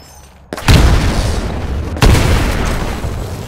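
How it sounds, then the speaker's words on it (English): Two heavy grenade blasts in the Titanfall game, about a second and a half apart, each a loud booming burst with a rumbling tail. "Throw a grenade into each of the windows."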